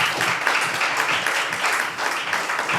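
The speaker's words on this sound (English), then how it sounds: "The claps go to James Cameron." Audience applause in an interview or talk setting, a steady dense wash of many hands clapping, fairly loud and sustained throughout without speech over it.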